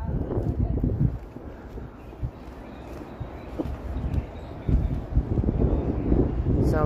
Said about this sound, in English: the wind was just blustering there